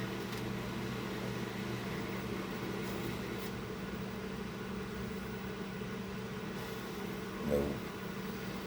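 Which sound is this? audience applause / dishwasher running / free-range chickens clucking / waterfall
dishwasher running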